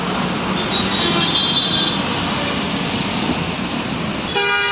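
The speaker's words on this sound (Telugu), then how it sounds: "చూడండి ఎంత ట్రాఫిక్ ఉంటుందో చెన్నైలో అయితే." Busy city road traffic in Chennai makes a loud, dense, continuous roar, with a few short horn-like tones cutting through.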